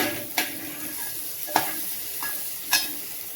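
Drumstick pods stir-fried in oil in a pan give a steady close sizzle, broken by a few sharp clinks of a spatula against the pan.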